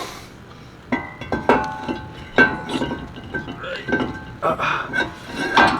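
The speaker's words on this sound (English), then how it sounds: "We're gonna go ahead and reinstall this brake rotor." Scattered metallic clinks and knocks as a brake rotor is reinstalled on a 2013 Ford F-250, irregular hits and rattles of metal parts close by, mixed with handling noise and a voice in the background.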